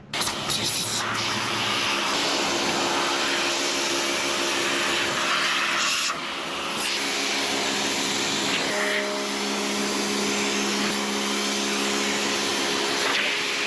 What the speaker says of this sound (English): So when I gurney it from here, it's kind of just pushing it back up there.